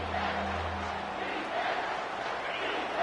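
A stadium crowd in College Football 25 roars in a steady, swelling wash of noise during a tense third-and-long, a broad sustained cheer with no single voice standing out.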